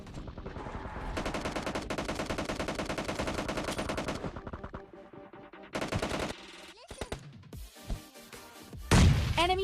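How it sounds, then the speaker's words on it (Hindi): Heavy gunfire from a squad house in the PUBG Lite video game: dense rapid automatic bursts for several seconds, then scattered shots and louder bangs nearby. "राइट साइड जो स्क्वाड हाउस होता है उधर से बहुत खतरनाक वाली फायरिंग की आवाज़ आ रही थी"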